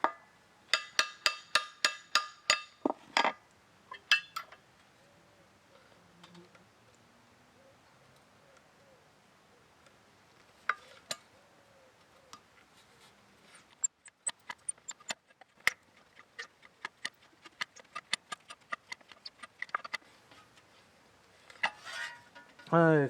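A peening machine hammers the edge of a continental scythe blade, giving sharp, fast, rhythmic metallic taps in bursts, loud at first, then sparse quieter clicks and further runs of rapid tapping.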